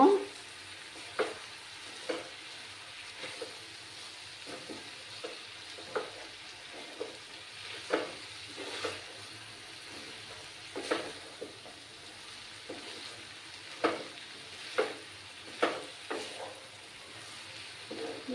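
A bottle gourd peel mixture fries in a pan while a spoon stirs it, a steady low sizzle broken by a regular series of sharp scraping strokes, close and fairly quiet with no voices.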